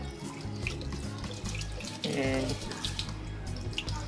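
Tap water runs steadily into a sink while a wristwatch is rinsed clean of polishing paste, a continuous splashing flow with a brief spoken word near the start.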